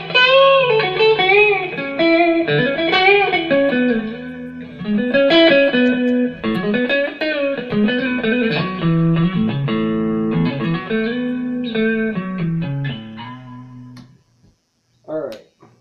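A Carvin DC135 electric guitar with light overdrive plays a run of sustained notes and chords for about fourteen seconds, warm and slightly gritty, ending in a short silence and a brief final pluck.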